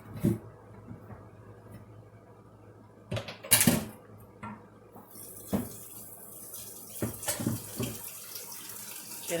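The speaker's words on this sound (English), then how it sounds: "Getting some water into that kettle immediately." A kitchen tap runs water into a kettle, a soft continuous hiss and splash that strengthens midway as the flow builds, broken by a few clunks and knocks of handling, with no talk.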